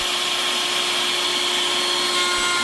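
A handheld router joints the edge of an oak board while a vacuum pulls dust at the cutter. The result is a loud, steady broadband roar with a constant tonal whine and no talking.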